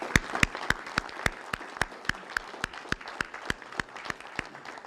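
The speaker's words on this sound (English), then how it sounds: "Let's give all of them, all the hard workers that have made this possible, a big round of applause" Applause for road workers after an Illinois I-80 improvements announcement, a steady series of sharp, distinct claps from a small group, fairly evenly spaced and moderately close.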